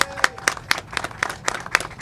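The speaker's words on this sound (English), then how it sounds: "Please, let's give him a round of applause." An audience at a mural ribbon-cutting ceremony applauds with sharp, evenly spaced claps about four per second, fairly close and modest in size, with no talking over them.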